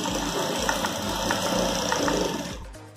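Domestic sewing machine running steadily as it stitches a folded strip of used clothing fabric for a rag rug, a continuous close whirring hum that stops abruptly near the end.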